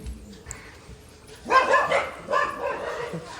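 Dogs at stalls outside a Swami Samarth temple barking and yelping, a short burst of overlapping barks then another, moderately close over a murmur of background voices.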